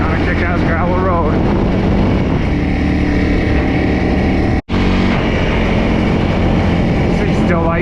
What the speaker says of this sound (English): Little 300 climbing up the mountain on this kind of kick-ass gravel road.